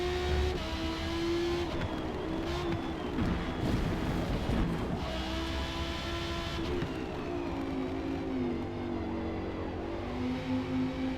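A Ferrari F12 on street tires in a racing video game: a loud, steady engine whine rises and drops through gear changes, with revving blips during a downshift and a continuous roar throughout.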